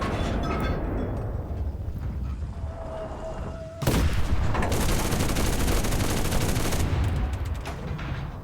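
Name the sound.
machine gun firing from a Pz III tank in video game Enlisted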